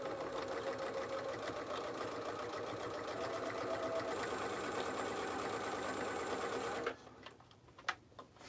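A home sewing machine fitted with a zipper foot stitches a seam on a fanny pack, a steady close whirring hum for about seven seconds before stopping, followed by a few light handling clicks.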